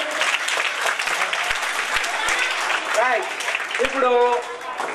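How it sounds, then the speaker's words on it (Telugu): A school audience at a science event claps loudly on request, a steady wash of applause filling the whole clip, with a few voices calling out over it near the end. "ఒకసారి గట్టిగా చప్పట్లు కొట్టండి."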